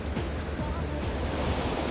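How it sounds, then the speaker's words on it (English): Roaring waterfall at Devil's Throat, a thick, deafening wash of falling water heard from right at the brink, steady and unbroken with wind buffeting the microphone. "I can't believe I'm literally standing on the tip of a waterfall and the sound is deafening."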